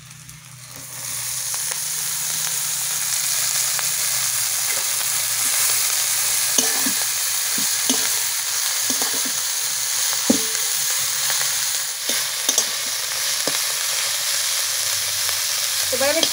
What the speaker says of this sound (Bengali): মশলাটা ভালো করে কষানো হয়ে গেছে, এবার কেটে ধুয়ে রাখা পুনকা শাকটা দিয়ে দিচ্ছি।